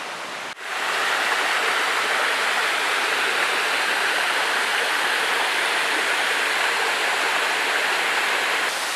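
Waterfalls and a river rushing beside a rocky nature trail in Auvergne, a steady, loud, full roar of falling and flowing water that continues unbroken after a brief dip near the start.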